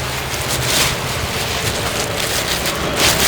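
Heavy monsoon rain in Kerala pours steadily in a dense, continuous hiss, beating on a surface nearby with occasional louder gusts and no voices.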